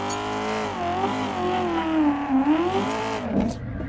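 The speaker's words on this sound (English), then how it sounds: "exhaust notes for these cars, very distinct" A drift car in the Assetto Corsa racing game held in third gear, its engine note rising and falling in a continuous rich harmonic drone with no talk over it.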